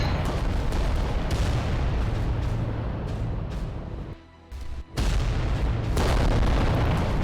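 Titan weapons fire in the Adeptus Titanicus: Dominus video game, a dense rolling barrage of loud booms and blasts that briefly drops away near the middle before resuming just as heavily.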